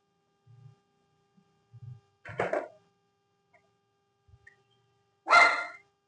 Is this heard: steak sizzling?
no